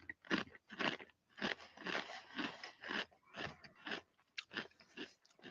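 Kettle Brand Limited Edition Chili Crisp potato chips are chewed close up, producing loud, repeated crunchy bites in irregular bursts with short pauses between them.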